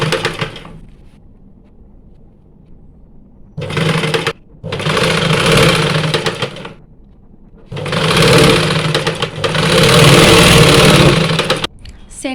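A sewing machine stitches saree fabric in several bursts of steady whirring, close and loud, separated by short pauses with a quiet hum beneath.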